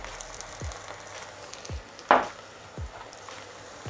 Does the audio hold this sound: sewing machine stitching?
no